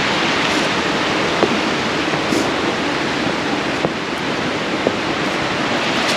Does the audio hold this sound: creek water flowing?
yes